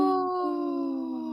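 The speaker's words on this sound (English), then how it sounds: "A somber howl." A single wolf howls in a long, sustained tonal wail that slowly glides downward, clear and prominent, with no talk over it.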